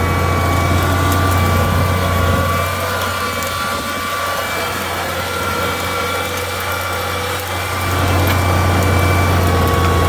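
A tractor pulling a plough through boggy peat ground sends out a steady, loud engine drone with a constant low hum. It dips slightly for a few seconds in the middle and then returns to full strength, with no talking.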